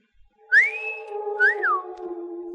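A man gives a two-note wolf whistle at a woman, a rising tone then a sliding one, clear and close with a low hum beneath.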